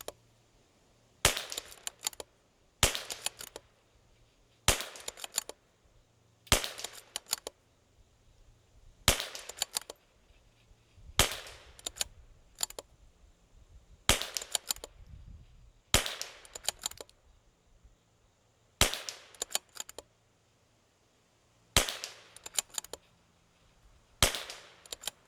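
A CZ 457 rifle fitted with a new trigger fires about a dozen sharp, evenly spaced shots, each a crisp crack with a short tail, separated by quiet pauses of roughly two seconds.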